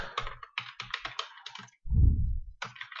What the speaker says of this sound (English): So I just type hello and your product